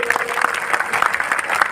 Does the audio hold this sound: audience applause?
yes